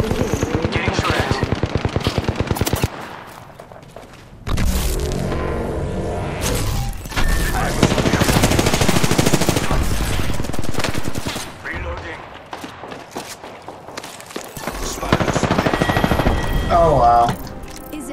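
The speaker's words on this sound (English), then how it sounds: "Getting shot at." Sustained bursts of automatic gunfire and firefights in the Apex Legends battle royale shooter, loud and dense for most of the stretch, with brief lulls, a booming impact and scattered game effects.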